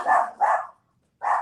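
Small pet dog barking close by: two quick sharp barks, a short pause, then a third bark.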